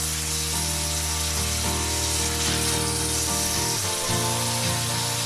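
Garlic sizzling and frying in a pan while cooking smoked sausage pasta, a loud, steady crackling hiss running the whole time with a constant hum and shifting tones underneath.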